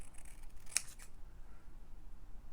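Scissors cut a rough square of paper in a quiet craft room, with one short crisp snip and a faint rustle after it over low background hiss.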